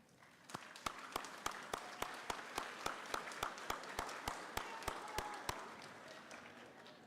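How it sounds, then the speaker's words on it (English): Graduates at a 2022 high school graduation applaud their families, a steady run of sharp claps ringing through a large hall, moderately distant and fairly faint, with a brief murmur of voices. "give them a round of applause"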